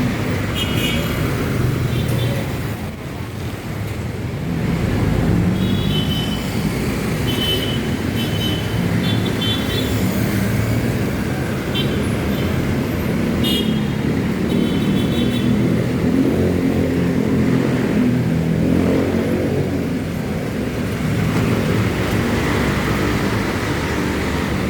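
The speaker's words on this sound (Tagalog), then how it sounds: "mga jeep ito na papunta ng Pasig" Jeepneys and other traffic rumble steadily along a busy Manila street near Legarda, a continuous low engine drone with passing vehicles and faint distant voices, no clear speech.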